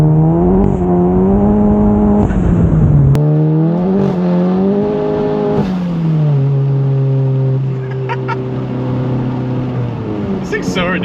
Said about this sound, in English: third gear hits so hard.